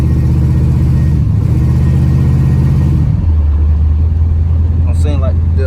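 A Box Chevy car with a carburetor engine revs and accelerates on the road, a loud close rumble that drops in pitch as the transmission shifts, with a voice talking over it.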